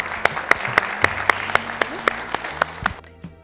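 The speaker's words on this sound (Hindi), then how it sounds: "बहुत बहुत जोरदार तालियां।" Audience applause after an interview about addiction recovery: clear, fairly loud clapping with sharp individual claps standing out, lasting about three seconds before stopping abruptly.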